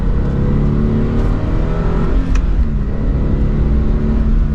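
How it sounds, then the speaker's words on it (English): A Toyota GR86 sports car engine roars steadily under hard acceleration, loud and close, its exhaust note holding a throaty drone throughout. "So let's do one last acceleration."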